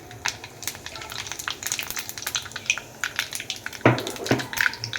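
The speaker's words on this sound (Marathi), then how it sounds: "तर आपण टाकूया पहिलं तेल. आपलं तापलेलं आहे. थोडीशी मोहरी, मग टाकूया जिरं" Mustard seeds and cumin hit hot oil in a pan for a Marathi potato and pea bhaji, giving a close, steady sizzle with irregular crackling pops and a sharper burst of spattering near the end.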